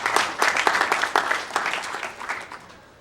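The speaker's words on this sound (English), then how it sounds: "I'd like to applause for those people." An audience at a conference keynote claps together in a short burst of applause, fairly close and loud at first, then thinning and fading out over a few seconds.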